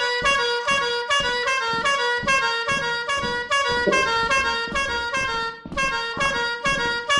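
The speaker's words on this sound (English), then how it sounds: "Just follow the sound of the horn." Repeated long honks of a vehicle horn in the game Lethal Company, a loud, sustained tone in a pulsing rhythm of about a dozen blasts, with no speech over it.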